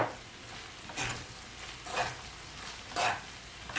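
Shrimp frying in a pan for garlic shrimp noodles, a steady soft sizzle with three brief louder bursts about a second apart, as if stirred or tossed.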